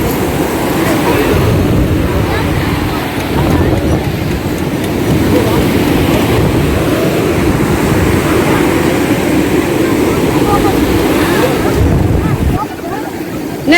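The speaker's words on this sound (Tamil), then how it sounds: "அலை ரொம்ப அதிகமாக வருது" Strong ocean waves breaking on a beach, a loud continuous roar and wash that fills the scene for most of its length and eases off near the end.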